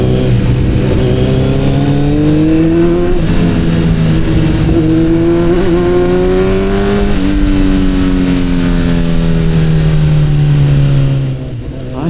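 A car drives through a city centre at night, its engine loud and close throughout, pitch rising and falling through several gear changes as it accelerates, then easing off near the end.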